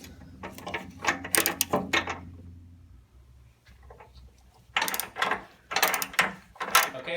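Bursts of rapid ratcheting clicks come from a ratchet and 18mm socket on an extension, backing out front bumper bolts on a Jeep JL. Two clusters of turning are separated by a short quiet pause, close and crisp.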